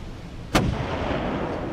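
A single huge ship's gun blasts once in a film scene, a sharp, loud boom followed by a long rumbling decay, with no talk.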